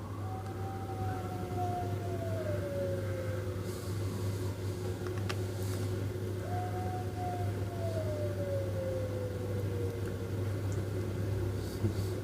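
A dog howls in long, falling wails that mimic a siren, two drawn-out howls separated by a pause, over a steady low hum.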